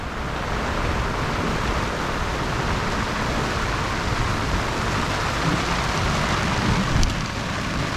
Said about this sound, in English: It's been a rainy day.